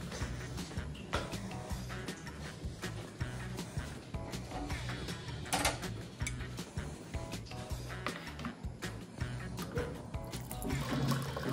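Water poured into a glass for a drink in a room at a resort in the early morning, a soft, quiet, steady trickle lasting several seconds.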